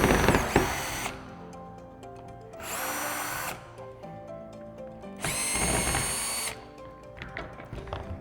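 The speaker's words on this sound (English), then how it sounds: "So we're going to unscrew it." A power drill unscrews the screws holding a water tank screen, whirring loudly in three separate bursts with quieter mechanical clicks and handling noise between them.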